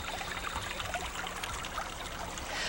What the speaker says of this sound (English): This is a seasonal stream, and so obviously in the springtime and winter months, there's a great deal more water flow.